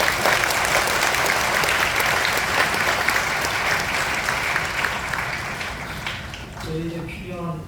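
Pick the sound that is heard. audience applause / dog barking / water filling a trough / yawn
audience applause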